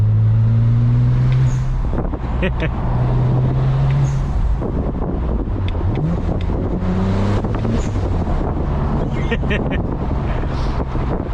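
A BMW 335i drives with a steady engine and exhaust drone, and its tone shifts as it moves, partly buried under heavy wind noise and road rumble while someone talks over it.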